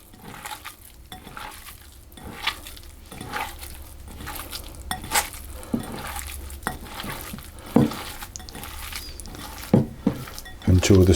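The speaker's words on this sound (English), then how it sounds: "And then with my hands I'm just going to mix those together." Sausage meat being mixed by hand with sage and onion in a bowl, giving soft squelching and intermittent knocks and clinks of the bowl, close and fairly quiet, with occasional voice sounds.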